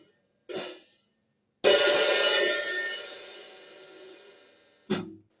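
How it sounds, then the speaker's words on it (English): A short cymbal tap, then a loud strike on a slightly open hi-hat whose bright, sizzling wash rings and slowly fades over several seconds before another quick tap. "A little bit open is this."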